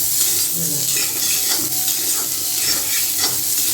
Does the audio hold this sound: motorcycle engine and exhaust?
no